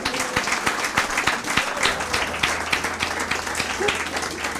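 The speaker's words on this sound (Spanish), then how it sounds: "Denle un aplauso al Señor." Church congregation applauding during a sermon, a dense wash of clapping with some sharp individual claps standing out, steady for several seconds over a low hum.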